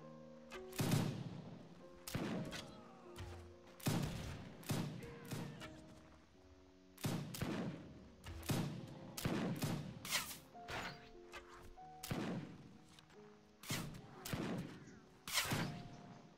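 Scattered volleys of gunfire from a large siege battle in the video game Mount & Blade, with repeated sharp shots and thuds arriving in clusters over a background of distant battle noise and faint tonal music.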